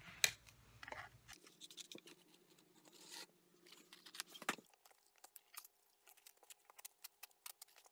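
Quiet, close snipping of scissors through fabric for a potholder, a series of short crisp cuts in an uneven rhythm with brief pauses between.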